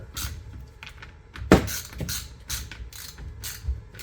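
Screws being tightened to draw a poly pump manifold and diaphragm head together on a GX5, giving a series of small mechanical clicks and ratcheting ticks with one sharper knock in the middle, close and fairly quiet.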